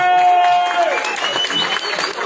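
Fight crowd applauding at the close of a boxing bout before the decision is announced, a dense burst of clapping and cheering with an announcer's voice ringing over it, then gradually thinning.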